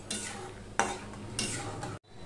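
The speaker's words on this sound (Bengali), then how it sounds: "আমি তেলের মধ্যে ভেজে নিচ্ছি" Raw peanuts frying in a little oil, stirred with a utensil: a steady close sizzle broken by three distinct scraping stirs, cutting off abruptly near the end.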